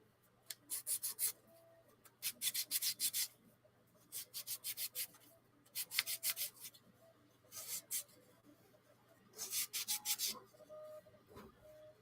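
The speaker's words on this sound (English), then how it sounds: "sanding inside of these a little bit just to get the rough parts off from the tabs" Rasping strokes of sandpaper smoothing rough spots off the tabs of a ROKR orrery model kit part, coming in short rhythmic bursts separated by brief pauses, close and fairly quiet.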